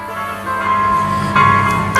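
A tinny electronic melody plays steadily from the small Bluetooth speaker of a 1/10 scale drift RC car, with sustained tones and a slight rise in volume partway through.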